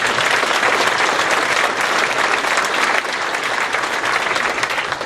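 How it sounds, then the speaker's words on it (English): A large crowd at a speaking event applauds the organizers, a dense, loud, continuous roar of clapping that holds steady throughout and tapers only slightly at the end. "How about a round of applause for them?"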